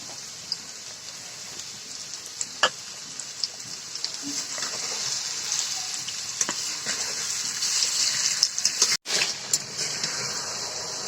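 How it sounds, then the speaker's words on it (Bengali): Boiled mango and sugar being gently stirred in a pan while making a sweet, sour and spicy mango pickle: a steady close sizzle with soft scattered scrapes and taps throughout, no voices. "এভাবে আলতোভাবে একটু নাড়তে থাকি, কারণ আমি চিনি দিয়েছি।"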